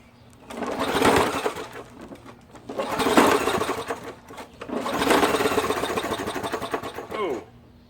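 An old push lawn mower engine on a cold start makes three rough pull-start bursts, each a loud rattling sputter lasting about a second or two, separated by quiet pauses, with someone talking in between.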